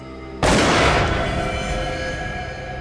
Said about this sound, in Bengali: স্যার গুলির আওয়াজ